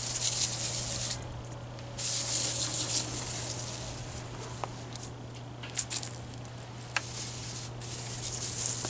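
Vinegar, dish soap and salt weed killer sprayed onto weeds outdoors, giving soft hissing bursts over a low steady hum, with a few faint clicks from the sprayer.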